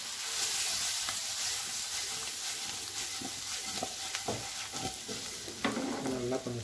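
Pieces of tuber fry in a salted pan, giving a steady low sizzle with occasional scraping stirs and sharper crackles toward the end, close and fairly quiet.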